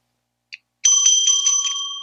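A small bell gives a brief tap, then rings out clearly with a bright, sustained ringing that fades slowly, close and alone without any talk.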